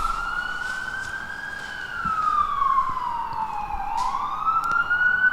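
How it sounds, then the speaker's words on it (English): A police car siren wails loud and close. Its tone rises and falls slowly through a long sweep, with faint road noise underneath. "police car is really loud"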